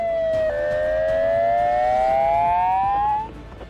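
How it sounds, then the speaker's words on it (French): A police siren wails loudly during a response to an armed robbery of a shopkeeper in Argentina, one long rising tone sweeping upward over several seconds before cutting off. "les sirènes se mettent à hurler"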